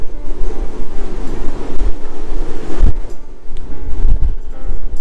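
Strong wind buffets and roars across the open deck of the cruise ship Diamond Princess, with steady broadband rushing and low thumps of gusts hitting the microphone.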